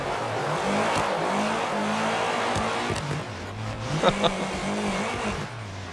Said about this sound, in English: Let's listen to the rev limiter here.